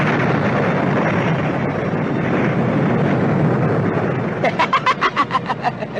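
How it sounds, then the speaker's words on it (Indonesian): An explosion sound effect in an Indonesian audio drama marks two magical powers clashing. It is a loud, sustained, roaring blast that breaks into rapid pulsing bursts as it fades. "Lalu terdengarlah ledakan keras"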